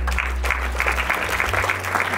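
Applause from a dinner audience greeting Sister Louis Jose Mukesa, steady scattered clapping throughout with a low hum beneath and a faint voice at the start.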